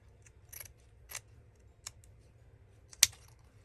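Scissors snip paper embellishments in a few short, separate cuts, close and quiet in an otherwise still room, with one sharper snip near the end.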